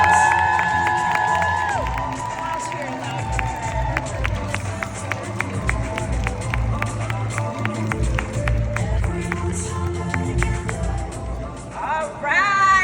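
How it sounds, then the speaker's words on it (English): Welcoming applause and cheering from a crowd at an event in Milwaukee, a steady wash of clapping and shouts with children's voices mixed in, continuing for several seconds under music. "give her a warm round of applause."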